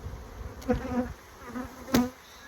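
Honey bees buzz around an opened hive during an apiary inspection, a close, wavering drone with a few louder passes as individual bees fly near.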